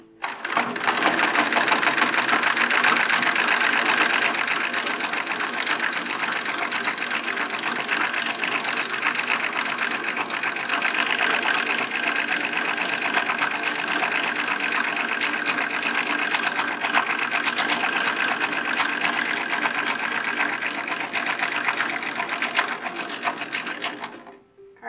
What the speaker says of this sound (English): I'm sewing up the side seams